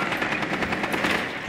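Rapid automatic gunfire from the video game Rainbow Six Siege rattles out in a close, loud, continuous burst of closely spaced shots with no talking.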